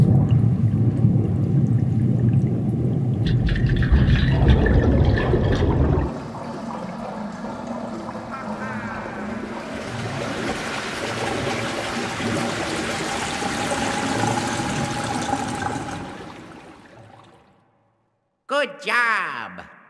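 Water rushes and pours in Luigi's Mansion 3 as a boiler-room chamber fills back up, a loud sustained flow that later thins out into a trickle before a few short game sound effects.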